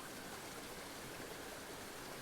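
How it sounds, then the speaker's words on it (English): Freely flowing water bubbling up from the earth on Mt. Shasta, a steady, even rush and gurgle that stays constant and fairly soft throughout with no voices. "watch the beauty of this moving water"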